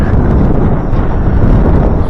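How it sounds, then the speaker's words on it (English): Strong wind gusts out on the ice of a frozen lake during late-season ice fishing, a loud, constant roar buffeting the microphone with no break. "It's getting windy out here"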